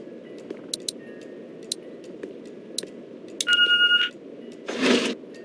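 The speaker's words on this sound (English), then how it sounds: "What's that beeping?" Answering machine in The Walking Dead video game beeping: a sustained electronic two-tone beep, then a louder buzzy tone, over low background hum with scattered faint clicks.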